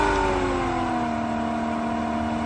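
A BLACK+DECKER variable speed pool pump runs at 3000 RPM, giving a steady, loud motor whir with a constant high tonal hum and no change in level.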